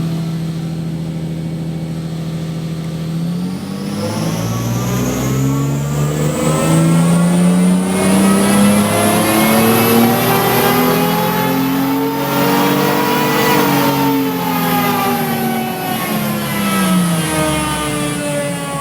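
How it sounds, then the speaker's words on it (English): A car engine on a dynamometer in 4th gear revs from a steady idle into a long rising pull, its loud whining drone climbing in pitch before easing back down, with no talking. "we'll get the car running on the dyno into 4th gear again, and we can start our 3rd run"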